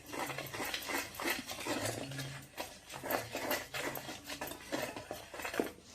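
Flour batter mixed in a bowl for buttermilk ukad, giving continuous scraping and clinking of a utensil against the bowl in a steady, moderately quiet rhythm.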